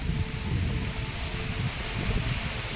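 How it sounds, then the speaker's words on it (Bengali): Cyclone Remal's storm wind roars steadily and loudly through the trees as leaves fall, with heavy low buffeting against the microphone and no voices. "ওই সিরিয়াস ঝড় এসে গেল।"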